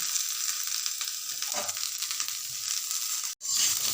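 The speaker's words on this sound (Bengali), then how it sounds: "শিমটাকে আমি ভাজছি, শিমটাকে ভালোভাবে ভাজতে হবে।" Broad beans sizzle steadily in a hot pan for a Bengali bean and eggplant curry, a continuous close frying hiss broken by a brief silent gap near the end.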